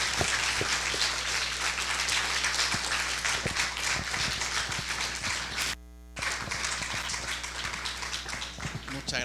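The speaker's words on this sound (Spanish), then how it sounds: "lo mínimo que podemos hacer es darles un aplauso." An audience applauds the Campeche team at a literary event, a steady wash of clapping heard at a moderate distance that cuts out briefly and then resumes.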